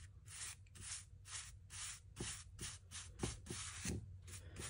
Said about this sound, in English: About 18 hours later, we're putting on a second coat on the Sol-Silicate.